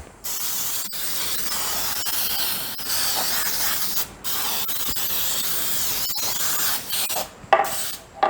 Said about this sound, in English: And I'm going to spray this whole thing, parchment paper and all.